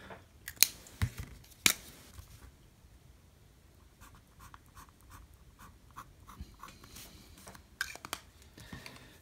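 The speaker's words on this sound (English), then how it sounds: "what we might do actually is just do some little cross hatches here, one after the other" Lamy fountain pen nib drawing small cross hatches on paper, faint close scratchy strokes coming one after another in short bursts, with a few louder taps.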